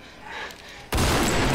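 A single loud gunshot from The Walking Dead cracks suddenly after a quiet, low background and rings out sharply for the rest of the moment.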